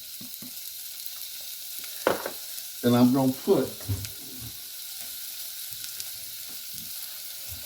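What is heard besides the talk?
bacon frying in a pan on low heat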